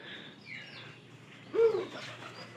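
A pair of pigeons in a loft coo softly, with one fuller, louder coo near the middle of the short stretch and faint bird sounds throughout.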